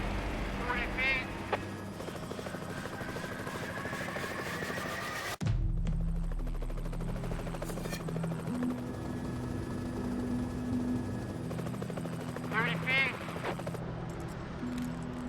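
A logging helicopter hovers over the forest canopy during heli-logging in a community forest, its steady rotor drone running throughout beneath frequent talking, with a sharp thump partway through.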